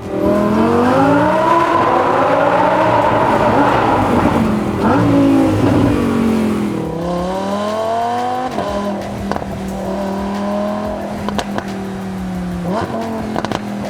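A Lamborghini Huracan EVO fitted with a custom titanium exhaust revs hard, its engine note climbing and falling in several loud sweeps, with sharp crackles between revs and no talking.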